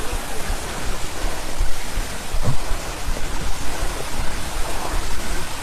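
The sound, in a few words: waterfall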